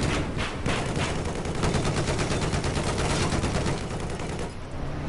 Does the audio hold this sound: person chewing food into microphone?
no